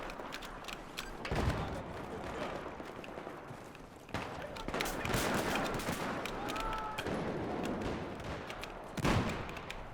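Gunfire in the video game Battlefield 4 hitting the player, sharp bursts of shots cracking through the match at moderate loudness, with a few louder blasts in a busy soundscape and no clear speech.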